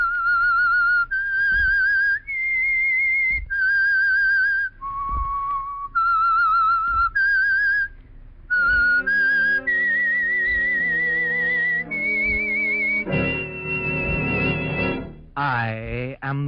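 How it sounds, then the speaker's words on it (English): A whistled tune serves as a radio show theme signal: clear, close melodic notes in a short rhythmic phrase, followed by a swelling orchestral passage with sustained chords. "That whistle is your signal for the Signal Oil Program"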